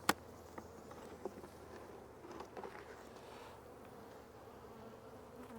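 Honeybees buzzing around open hives during a spring inspection, a faint steady hum close by with a sharp knock at the start and a few light taps of frames being handled.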